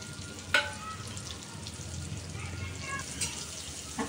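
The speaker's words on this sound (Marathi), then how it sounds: "आता हे सगळे आता आपण मशरूम ठेवलेले आहेत भाजायला" Mushrooms frying gently in a pan over a low gas flame, a soft steady sizzle with a few faint clinks and bumps, quiet and close.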